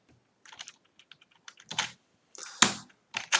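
Computer keyboard typing during a Python programming lesson, with short bursts of crisp, close keystrokes separated by quiet gaps.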